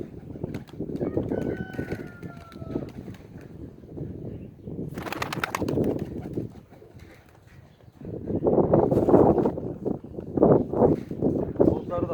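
Pigeons coo in low rumbling bursts, with some wing flutter and a person talking nearby, as nine pigeons are let out of a cardboard box.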